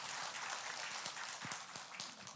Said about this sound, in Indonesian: Berikan tepuk tangan bagi Allah kita